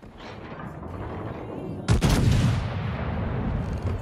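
A heavy battleship salvo from the German battleship Preussen booms out in a naval combat game, one loud, sharp blast over a constant low engine and sea rumble, followed by a lingering roar.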